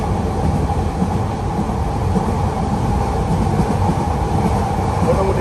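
A passenger train running at about 80 km/h on the Dhaka to Cox's Bazar line, heard from inside the carriage as a steady, loud, dense rumble and roar with a faint rhythmic wheel clatter throughout.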